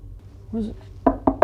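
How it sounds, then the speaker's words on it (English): A series of sharp knocks on a door, three or four firm raps in quick succession near the end, following a moment of low-level room noise and a brief voice. "Oh, someone's knocking."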